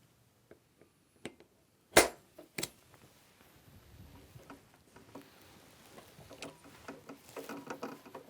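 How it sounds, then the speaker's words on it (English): Spring-loaded center punch snapping against metal in a knifemaking shop: a few light ticks, then one sharp loud crack and a second smaller snap, followed by faint scattered tapping and handling noise. "spring-loaded center punch."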